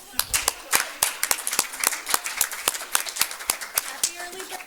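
A small group claps at a student government weekly meeting, giving a steady patter of crisp, close claps for several seconds, with voices murmuring underneath and a brief voice near the end.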